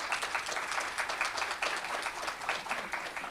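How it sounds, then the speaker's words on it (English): Audience applause at a chamber of commerce State of the Chamber event, a steady wash of many hands clapping at moderate distance, continuous and fairly quiet throughout. "Let's give them a round of applause."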